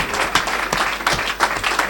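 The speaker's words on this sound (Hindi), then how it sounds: "इस वक्त अपने खुदावंद के लिए जोरदार तालियां बजाएं।" Loud applause from a church congregation clapping for the Lord, a dense continuous wash of hands with a few sharper peaks, filling the space without any talk.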